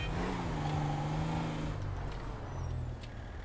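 A lowered car in GTA 5 rumbles steadily as it drives into a garage, its engine drone loud and continuous before easing slightly, with faint clinks near the end.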